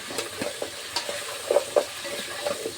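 Sambar with eggplant and okra stirred in a pot, giving soft repeated scraping and light sizzling in an irregular rhythm, close and fairly quiet.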